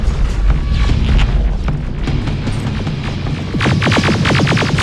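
Deep booming rocket explosions in the Terminator: Resistance video game rumble heavily throughout, with a loud burst of rapid crackling debris or gunfire near the end.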